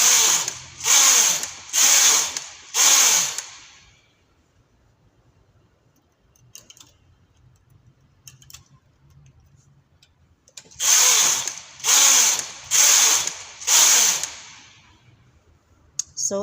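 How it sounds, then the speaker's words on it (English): A small Brother standard gauge knitting machine knits in two bursts of four rapid, loud mechanical carriage passes each, separated by a quiet pause. "I'm using the usual standard gauge machine, the small brother knitting machine"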